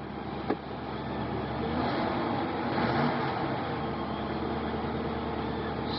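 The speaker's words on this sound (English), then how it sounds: "Listen to it run a little bit." Steady, close engine idle from a 1997 Mercury Mountaineer AWD on a cold day, holding an even rumble near 1,000 rpm with one small knock early on and no talking.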